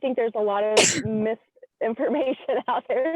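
A single sharp sneeze bursts out loudly in the middle of a podcast conversation, cutting across the speech of a nearby voice before talk resumes.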